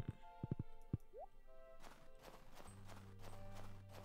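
Horse hooves in the Stardew Valley video game give a few crisp clip-clops near the start, followed by game chimes and music.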